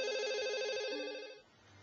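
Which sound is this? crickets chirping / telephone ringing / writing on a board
telephone ringing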